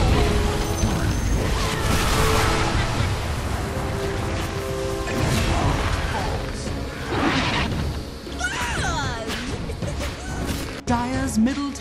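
A tower being destroyed in a Dota 2 match, heavy crashing and booming impacts amid dense battle noise, whooshes and spell effects, with an announcer voice heard over the din.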